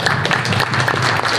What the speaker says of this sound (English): The applause is going for Bas.